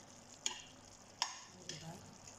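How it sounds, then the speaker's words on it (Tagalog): Garlic and ginger hitting a hot pan, giving a soft, quiet sizzle broken by three sharp clinks of a utensil against the pan as the pieces are stirred in. "after 10 minutes, ilagay po natin ang bawang at luya"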